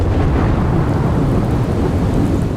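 Heavy monsoon rain pours with rolling thunder on a night of flooding and landslides in Kerala: a loud, dense, unbroken roar fills the whole stretch, with no voices.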